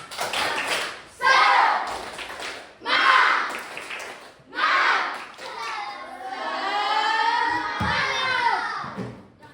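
Fourth-grade pupils in a classroom repeat the tepuk semangat chant more loudly, unison shouted phrases punctuated by claps and taps, building to a long final group cheer, close and energetic.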